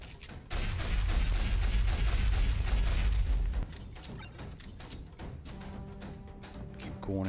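Heavy assault rifle firing in Osiris: New Dawn, a loud sustained burst of rapid shots for about three seconds, then quieter scattered impacts and game sounds.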